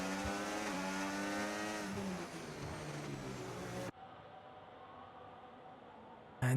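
A Ferrari race car at the Singapore circuit in a racing video game roars past with a loud, high-pitched engine whine that drops in pitch, then cuts abruptly to a quieter, distant engine hum.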